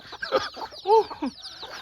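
Chickens on a cold, misty highland farm near Mae Sariang in northern Thailand cluck in short bursts, with one louder squawking call in the middle, close by and with no one talking.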